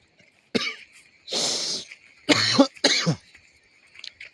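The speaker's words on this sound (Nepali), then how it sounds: "खोकी लाग्यो यार बिहानै।" A person coughs in the morning outdoors beside a village farm plot: four close, fairly loud bursts of coughing and throat clearing over about three seconds, with quiet pauses between them.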